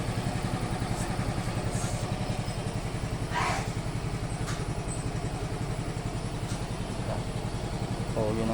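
A Yamaha Fazzio scooter engine runs at a steady idle with an even, mid-pitched pulsing putter and some light clatter, close by, while faint background noises come and go.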